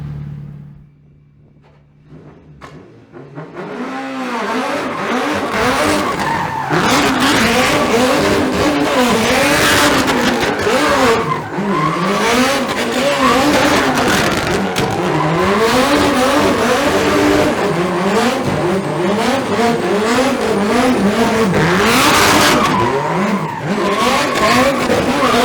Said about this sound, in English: you've seen these skids before, Alex is going to do his thing, enjoy.